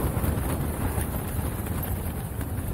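Continuous heavy wind at a desert campsite in California's Gold Country roars and rumbles close against the mic, a dense low blustering noise that never lets up.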